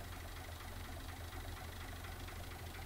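A tractor engine idling in Farming Simulator 22, a steady, dense mid-to-low rumble with a knocking chug that holds constant and fairly loud throughout, with no talk.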